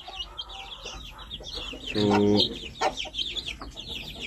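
Mother hen and roughly two-week-old chicks, with a short hen cluck standing out over continuous high peeping of chicks, and someone speaking briefly.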